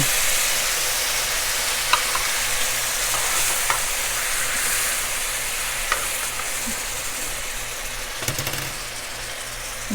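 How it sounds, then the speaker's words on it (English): Garlic sizzles in a hot pan alongside chicken Marsala ingredients, a steady close frying hiss running throughout with small crackles and a few clinks of a utensil against the pan. "Then we're going to throw our garlic in."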